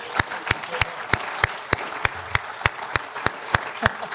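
Scattered applause from a small crowd at a safety council awards meeting, with a handful of sharp claps ringing out at a steady pace over a soft background murmur.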